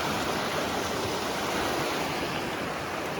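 A stream in Idaho rushes steadily, a dense, even wash of flowing water heard close and alone without any voices.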